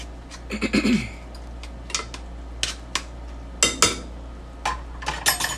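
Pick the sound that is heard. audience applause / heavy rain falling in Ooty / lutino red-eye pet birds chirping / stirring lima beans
stirring lima beans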